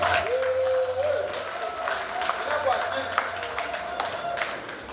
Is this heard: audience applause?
yes